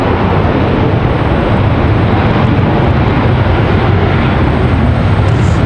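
A Virgin Atlantic airliner from London Heathrow passes at Washington Dulles with a loud, dense, continuous engine roar, close and unbroken throughout, with no voices.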